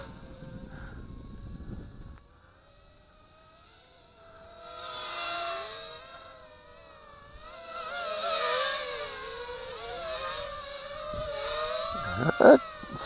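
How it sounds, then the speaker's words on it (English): Foxtech Lightning 210 FPV racing drone on a 4S battery flies outdoors, its high buzzing motors rising and falling in pitch as it climbs and accelerates, swelling louder toward the end. "It accelerates well."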